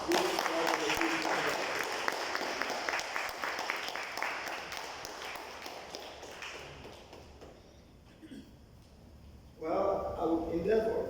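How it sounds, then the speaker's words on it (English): Lecture audience applause, scattered clapping that starts fairly loud and thins out over several seconds, then a voice begins speaking near the end. "I think TU could clap a lot louder than that."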